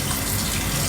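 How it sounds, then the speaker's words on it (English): Hot water poured into a hot pan to deglaze it, a steady rushing pour that holds loud and even throughout with no pauses. "Throw in some hot water."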